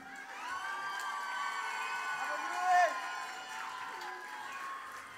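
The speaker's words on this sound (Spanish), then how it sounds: "¿Podemos pedir un aplauso?" A live concert crowd cheers and claps, a busy wash of voices and whoops rising briefly before settling into steady applause.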